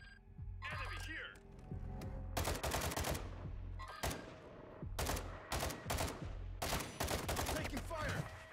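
Bursts of rapid video game gunfire crack out in repeated volleys, loud and close, with brief gaps between the strings of shots over a steady background rumble.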